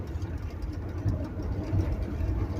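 A Ford Cortina Mk3 estate on the move, its engine giving a steady, low, close rumble with a little road noise and no voices.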